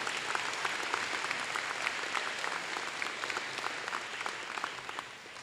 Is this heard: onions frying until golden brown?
no